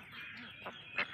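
Muscovy and laying ducks on a farm give a couple of short, sharp quacks over a soft, continuous murmur from the flock, the last call slightly louder and nearer.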